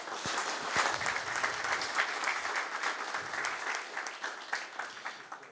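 An audience applauds after a book presentation, a steady patter of many hands clapping at moderate distance, continuous for several seconds and gradually thinning toward the end.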